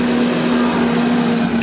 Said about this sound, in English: I'm gonna wait for this garbage truck to pass by